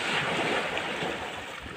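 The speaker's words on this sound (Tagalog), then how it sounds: "Ito yung maalon na dagat po" Choppy sea waves breaking along a shore, a steady dense wash of surf mixed with wind noise on the microphone, with no voices.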